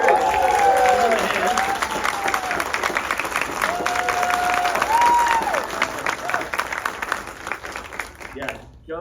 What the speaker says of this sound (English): Joe deserves a huge round of applause